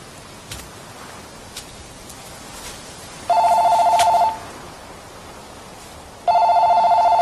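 Indoor telephone ringing in two loud electronic bursts about three seconds apart, each a steady trilling ring lasting around a second, over faint background hiss.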